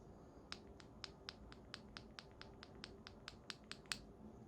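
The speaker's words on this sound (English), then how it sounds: "Now to the lubricated switch that we just did together." Keystrokes on lubed cream keyboard switches, a brisk regular series of soft, close clacks that sound smoother and muted, with one louder strike near the end and no talking.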